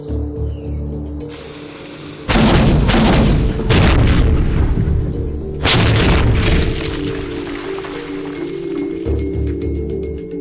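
A small cannon loaded with a small powder charge fires a 1.5 kg cannonball into a solid oak target, several heavy booming blasts and crashes with sharp onsets and lingering rumble, loud and close, separated by brief lulls.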